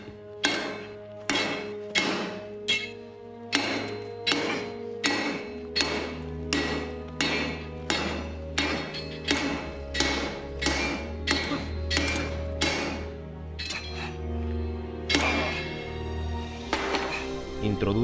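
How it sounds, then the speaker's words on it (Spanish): A hammer strikes a piece of metal on an anvil at a forge in about twenty sharp, ringing blows, struck at a steady, fairly quick pace, with a low hum of background music underneath. "Toma otro pedazo de metal y lo golpea con un martillo sobre un yunque"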